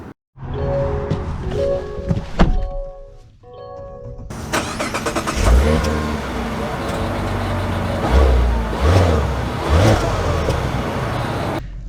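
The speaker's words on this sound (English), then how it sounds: "let's see how it drives." A 2024 Mazda CX-90 base model starting up with a short chime-like tone sequence, then a steady engine hum and road rumble with low thumps as it drives off.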